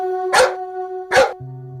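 A pet dog gives two loud, sharp barks about a second apart, close by, over a sustained musical tone from a television serial.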